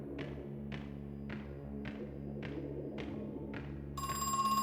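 A telephone in the video game Crow Country rings with a steady series of about seven evenly spaced trilling bursts, followed by a brighter electronic tone at the end, with no talking.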